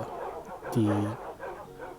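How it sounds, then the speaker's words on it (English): A single sharp bark from a wolf in a video game rings out once, short and fairly close, over a low murmur of background sound. "all of a sudden I hear a dog barking"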